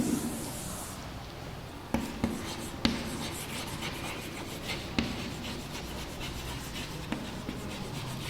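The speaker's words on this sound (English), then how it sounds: "let me write this structure as" Writing on a board during a plant biology lecture makes a continuous close scratching and rubbing sound, broken by a few sharp taps where the writing tool strikes the surface, with no talking over it.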